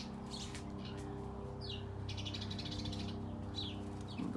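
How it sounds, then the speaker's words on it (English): Birds chirp outdoors in a few faint, scattered bursts of high tweets over a steady low background hum. "The birds,"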